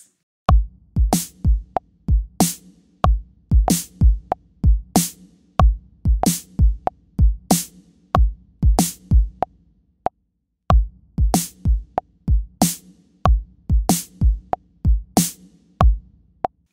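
A drum track tightened with Logic's Flex Time slicing mode, playing a steady, evenly spaced groove of sharp hits with a short gap midway, loud and alone with no talking.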